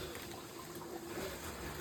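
Water runs from a hose into a machine as it fills, a steady quiet hiss and rush of flowing liquid with a faint low hum, continuous and unbroken throughout.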